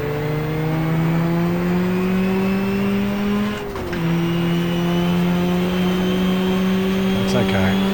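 A Porsche race car in the GTR2 racing sim at a Suzuka 4 Hour race holds a loud, steady engine drone, with a brief dip near the middle before pulling on again.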